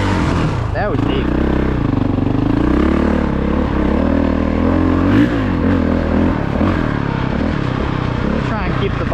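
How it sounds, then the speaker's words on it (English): A Honda CRF450RX dirt bike pushing through deep water on a single-track trail, its engine droning steadily at low revs with churning, sloshing texture throughout, and faint speech mixed in. "Try and keep the bike steady without sinking it. Hopefully I don't flood my bike today"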